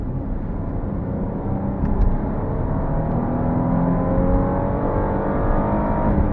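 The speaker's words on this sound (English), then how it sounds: "one thing you absolutely want to do on a test drive is floor the car" A used car's engine floored at full throttle during a test drive, a loud, sustained roar with rising revs heard close up from inside, steady and continuous with no talking.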